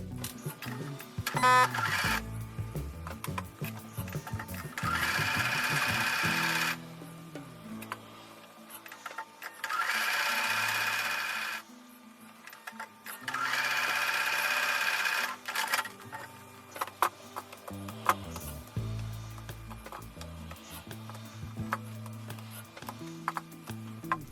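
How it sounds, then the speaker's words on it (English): A sewing machine stitches a quarter-inch seam on quilt block pieces in three sustained whirring bursts separated by pauses, with light clicks and handling noises in between, close and steady. "So I'm going to take these over to the sewing machine and sew with a 1/4 inch seam."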